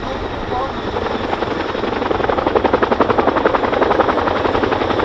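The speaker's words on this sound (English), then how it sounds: "taking the Chinook skywards into the Gorney corkscrew, rotating and climbing to 800 feet." A Chinook twin-rotor helicopter hovers at the RAF Cosford Airshow, its loud rhythmic rotor thumping building steadily and dominating the scene, while an announcer talks over it.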